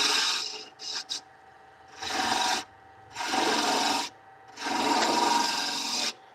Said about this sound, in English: I'm going to go back to the carbide just to shape this front piece.